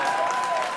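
An audience gives brief, light applause, a thin scattered patter of clapping that lasts under a second at moderate level.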